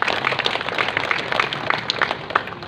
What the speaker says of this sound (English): Can we give our department heads a round of applause as well?